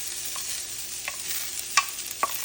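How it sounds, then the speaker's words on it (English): Potatoes and onions frying in a skillet for corned beef hash, a steady close sizzle with a few soft scraping stirs punctuating it, no voice over it. "we're getting some good browning on the potatoes now, so now we're going to go in with the onions"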